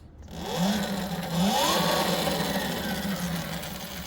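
A Talaria electric motorbike with a power pedal kit starts up at the press of its start button, a steady close motor whine with rising and falling tonal sweeps that hold on after a moment of silence.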